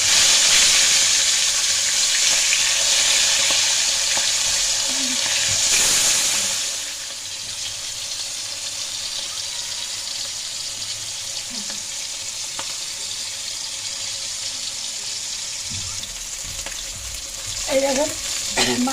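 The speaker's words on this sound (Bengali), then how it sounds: "মাছ ভাজা হয়ে গেছে, লাল করে ভেজে নিলাম।" Pangash fish fries in hot oil with a steady, dense sizzle that drops to a softer crackle partway through, with a few utensil clinks near the end.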